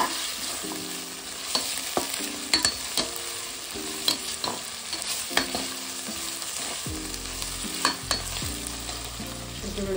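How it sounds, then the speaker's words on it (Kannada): Garlic paste sizzles and fries in hot oil while a spoon stirs it around the pan, with a steady crackling hiss broken by frequent scraping knocks of the utensil against the pan. "ಬೆಳ್ಳುಳ್ಳಿ ಹಾಕಿ ಸ್ವಲ್ಪ ಚೆನ್ನಾಗಿ ಫ್ರೈ ಮಾಡ್ತಾ ಇದ್ದೀನಿ."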